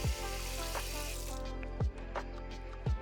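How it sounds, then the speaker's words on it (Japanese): Water runs steadily from a kitchen tap while a lunch box is washed by hand at the sink, with a few soft knocks and clatters of the box against the basin through the continuous flow. "そしてお弁当箱を洗います。"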